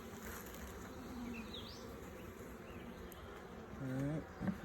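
Honey bees buzzing at an opened Italian honey bee hive during an inspection, with a faint continuous hum and a few louder individual bees passing close near the end.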